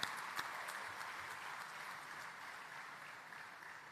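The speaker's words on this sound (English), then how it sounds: "Let's give ourselves a big round of applause." Audience applause at a graduation ceremony, a faint, distant, even wash of many hands clapping that holds steady and slowly fades slightly.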